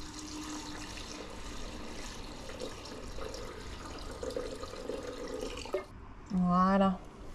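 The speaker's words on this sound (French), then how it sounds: "On doit peser 750 g d'eau dans le bol." Water poured into the bowl of a Schneider PowerChef food processor, a faint steady trickling and splashing under someone speaking French, followed by a short spoken phrase.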